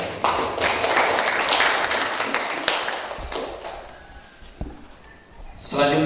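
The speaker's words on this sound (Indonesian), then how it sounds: "Boleh tepuk tangan dulu kepada Anda" An audience at a teachers' development event at a madrasah in Kutai Kartanegara applauds, a broad wash of clapping that tapers over several seconds while a voice speaks, with a few louder taps and thumps near the end.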